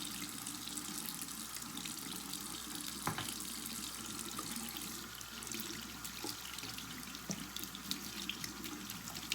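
Hot tap water runs steadily into a sink while makeup brushes are washed, a constant close splashing stream with a few faint clinks and drips, no voices.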